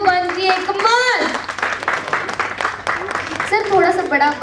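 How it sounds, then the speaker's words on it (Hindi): Guests applauding couples at a first birthday celebration, a burst of clapping mixed with loud voices and cheering, with a speaker's voice cutting in over it at the start and end. "ओके सारे कपल्स के लिए एक बार तालियां तो बनती है।"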